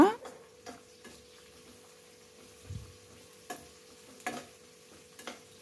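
Bitter gourd frying in a pan, a soft continuous sizzle broken by periodic light ticks and scrapes of stirring, fairly quiet with no clear talking.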